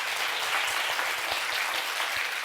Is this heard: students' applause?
yes